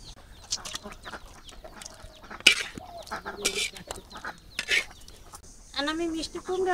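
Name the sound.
chickens clucking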